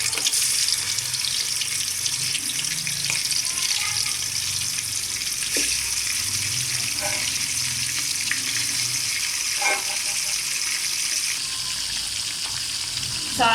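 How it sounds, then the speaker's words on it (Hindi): Chicken frying in hot ghee over a high flame in a Pakistani karahi, giving a steady, close hiss and sizzle with faint stirring clinks and no talk. "सबसे पहले मैं अपने चिकन को फ्राई कर लेती हूँ।"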